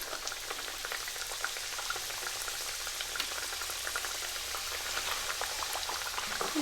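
Vegetarian Punjabi samosas deep-fry in hot oil with a continuous, fairly soft bubbling hiss and scattered crackles, steady from start to finish with no voices.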